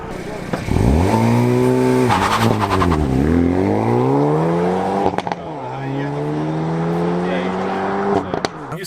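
A 2019 Hyundai Veloster N hot hatch launches hard from a standstill, its engine revving up through rising gear pulls with brief shift breaks, loud and close from inside the cabin.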